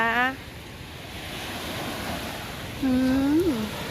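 Sea waves break and wash onto a beach on a morning shore, a steady surf wash under wind, with a voice at the start and someone speaking near the end.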